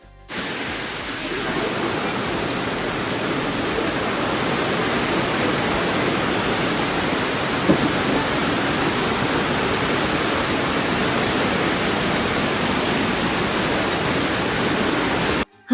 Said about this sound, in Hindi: एकदम से बारिश